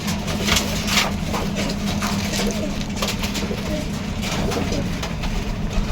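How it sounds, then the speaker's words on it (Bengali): Pet pigeons kept at home coo steadily amid a busy noisy backdrop with a faint engine-like hum, the low burbling calls running on without a break. "আজকে দেখতে পাচ্ছেন আমি 3 জোড়া পায়রাকে আপনাদের দেখালাম"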